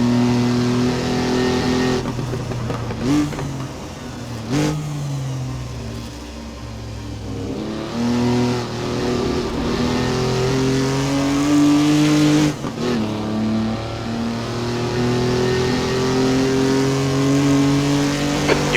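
A 1959 Mk2 Jaguar hot-lapping Donington Park National Circuit, its engine loud and close, revving up and down through gear changes with sharp lifts and brief tire squeal.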